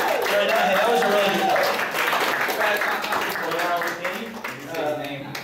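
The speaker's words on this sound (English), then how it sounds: "All right, give a round of applause, guys, come on." Scattered audience clapping at an anime convention game show, carried under loud, animated talking and shouting voices that stay on top of it throughout.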